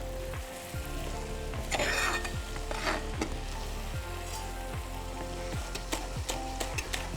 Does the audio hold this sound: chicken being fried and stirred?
yes